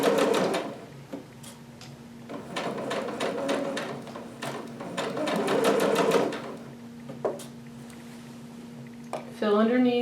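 A sewing machine runs basting stitches across a section of a Vogue 2530 garment, its rapid needle bursts starting and stopping in several runs close by, with a steady hum between them and a brief voice near the end.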